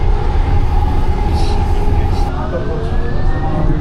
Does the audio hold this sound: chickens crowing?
no